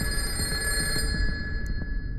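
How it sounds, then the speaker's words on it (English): A telephone rings inside the dystopian video game Karma: The Dark World, a steady electronic ringing tone held over a low ambient rumble, fairly faint and alone without talk. "Oh, the phone's ringing."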